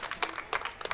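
Audience applause welcoming a poet onstage at a Hindi comic poetry gathering, arriving as bursts of claps that swell and fade across the second, fairly faint.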